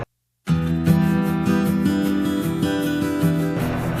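A wood lathe spins steadily while a tool cuts a wooden coffee scoop, giving a loud, continuous whirring scrape with a rhythmic pulse from the rotating workpiece. The sound starts abruptly after a short silence.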